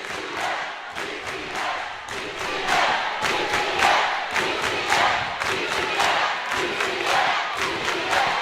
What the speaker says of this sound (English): Oh, they're cheering away.